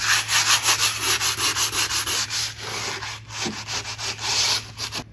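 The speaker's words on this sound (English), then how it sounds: "We'll keep sanding for a bit." Rhythmic back-and-forth hand sanding on a rusty metal fridge surface, close and loud, with quick regular scratchy strokes about three per second and no talking.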